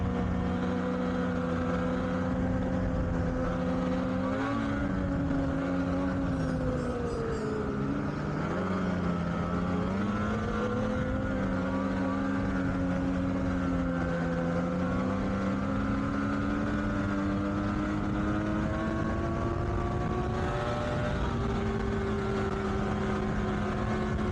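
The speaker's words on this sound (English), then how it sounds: "What a great engine. It's torquey." An engine runs continuously and loudly nearby, its steady drone rising and falling slightly in pitch as the revs shift.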